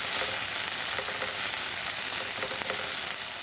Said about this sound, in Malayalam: ഇത് മൂടി വെക്കാതെ ചെറുതീയിൽ നന്നായിട്ട് മുരിച്ചെടുക്കാം